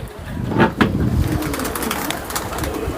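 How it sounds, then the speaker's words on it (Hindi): A pigeon on a rooftop gives soft, throaty coos, close and fairly loud, with a couple of distinct calls early and faint background noise after. "सो ये है जी इनका कबूतर जो दूसरे दिन बैठा था।"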